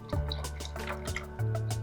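Milk poured into a pan while cooking mince and bacon pasta, a close liquid trickle and dripping splash running for about two seconds, with a fuller pouring gush near the end.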